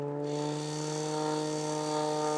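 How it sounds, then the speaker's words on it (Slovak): A fuel pump refuelling a helicopter gives off a steady mechanical drone with a constant low hum and tonal whine. It holds evenly throughout at moderate level, with no speech. "To je zvuk pumpy."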